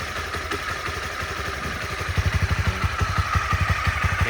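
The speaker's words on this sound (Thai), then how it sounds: "เสียงเครื่องยนต์เงียบๆครับ ปิดท่อให้เลยนะฟังเสียงเต็มๆนะครับ" A 2018 Honda CB300R motorcycle engine idles nearby with a steady, even putter of rapid pulses, loud and close, settling into a regular throb.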